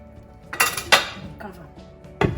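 A lid goes onto a pot of Turkish chicken stew with potatoes and carrots, giving a few sharp metallic clanks and clinks close by, with a final knock at the end.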